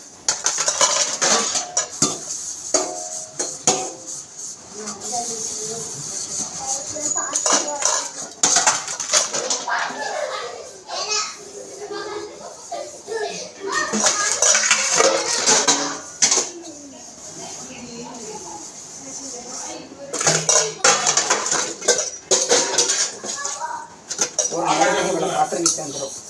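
Clattering dishes and pots being scrubbed with a scrubber, with metallic scraping and clinks in irregular bursts, close by, with a voice talking over parts of it.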